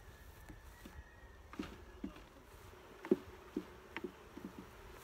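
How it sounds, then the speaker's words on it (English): Honeybees being shaken from hive supers into a box during a hive split, giving a quiet, soft buzz with a few small knocks and thumps scattered throughout, with no talking. "start shaking some bees from my supers into here"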